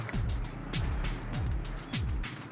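Small motorized tricycle engine puttering steadily along a road, with repeated rising pitch sweeps as it moves, close and moderately loud, no talk.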